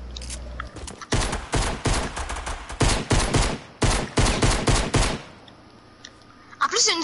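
Rifle gunfire from a video game rings out in rapid bursts and volleys, loud and close, broken by short pauses and ending in quieter background sound.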